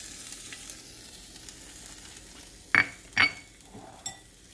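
Crushed ginger and garlic frying in sesame oil in a kadai, a low steady sizzle broken by a few sharp metallic clinks of a spoon against the pan, close and without voices.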